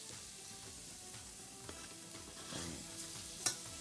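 Garlic fries in olive oil in a pan, a quiet continuous sizzle with occasional stirring scrapes and a sharp clink near the end, no voices.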